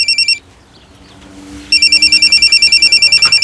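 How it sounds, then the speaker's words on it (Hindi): A mobile phone rings in a crime drama scene, a rapid electronic trilling ringtone in short pulses that stops briefly, then resumes loud and repetitive. "जब मैं लोडिंग कर रहा था तब अचानक बलराम जी का फोन बजा।"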